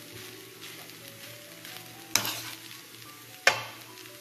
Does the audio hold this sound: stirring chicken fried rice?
yes